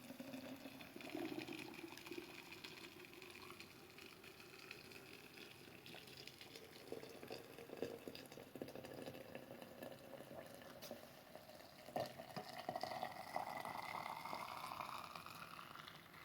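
Boiling water is poured into a glass jar of apricot, apple, orange and lemon compote. There is a faint, continuous gurgling fill whose pitch rises gradually as the jar fills.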